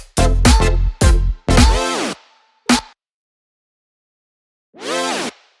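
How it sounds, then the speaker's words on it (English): A synth slide built from a straight square wave with seven-voice unison and detune, heard as several loud buzzy bursts with pitch bends sweeping down, a short stab, a pause, then one more gliding bend, alone and up close. "which is the synth slide that sounds like this."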